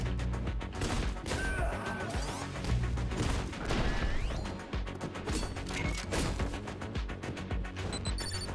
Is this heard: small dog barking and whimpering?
no